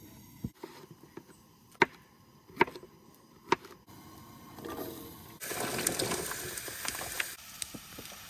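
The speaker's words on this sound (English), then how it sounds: "I'm cutting up the cheese small so it's easier to melt." A knife chops cheese into small pieces, probably while camping in the Adirondack forest, as a few sharp, separate blade strikes land on a board, followed by a louder, broader rush like water being poured.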